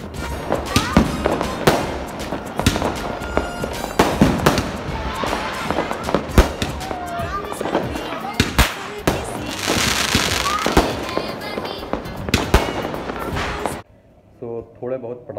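Diwali firecrackers and fireworks bursting repeatedly at a home celebration, loud sharp cracks and bangs in irregular succession with crackling between them, voices talking throughout, ending abruptly as the sound drops to quiet indoors.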